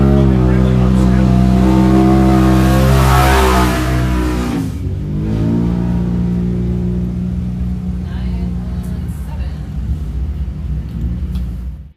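A Turbo S off-road race vehicle revs hard during qualifying at the High Desert 100 in Powell, Wyoming, a loud close engine roar with harmonic whine that drops and shifts, then a steady droning pass fading out.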